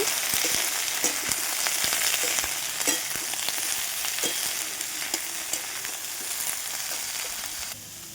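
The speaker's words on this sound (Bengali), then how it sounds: "এবার বেগুনটা দিয়ে একটু ভেজে নেব" Eggplant pieces fry in hot oil in a wok with a steady, loud sizzle, punctuated by scraping strokes of a spatula stirring throughout; no talking.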